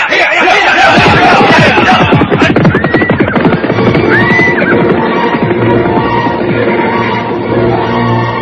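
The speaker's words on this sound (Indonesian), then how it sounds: "Aku tidak mendengar derap kuda lagi." Horses whinny loudly and repeatedly close by over steady hoofbeats, with faint voices murmuring in the background.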